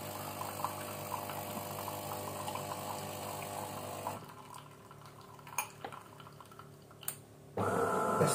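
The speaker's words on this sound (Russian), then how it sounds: "Мы наливаем эспрессо." An espresso machine's steady pump hum and liquid stream runs for a few seconds, then cuts to quieter clinks and drips before a loud hiss bursts in at the end.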